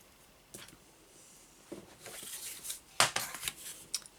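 Scissors cutting out a paper craft piece for a Christmas robin journal project, a few quick close snips and crisp rustles that grow busier toward the end, quiet and alone without speech.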